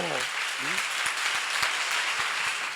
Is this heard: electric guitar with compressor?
no